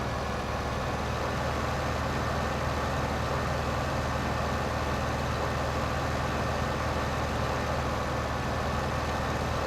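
A tractor engine in Farming Simulator 2015 hums at a steady idle, a constant low rumble with no change in pace, close and alone.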